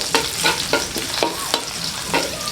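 Garlic sautés in a pan with repeated stirring strokes, each scrape rising over a steady close sizzle, roughly a handful of spatula passes with no talk.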